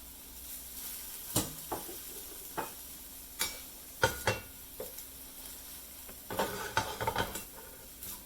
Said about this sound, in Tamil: நல்லா மிக்ஸ் பண்ணிடலாம்